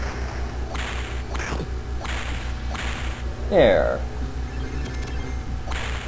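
Repeated whip swishes and sharp cracks from the Earthworm Jim game on Sega CD, set against rhythmic game music, with one louder crack standing out and a player talking briefly.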